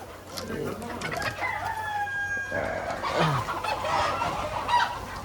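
A large flock of desi country chickens, about 1,500 birds on a poultry farm, clucks steadily with a rooster crowing partway through, the birds close and continuous while a voice speaks briefly.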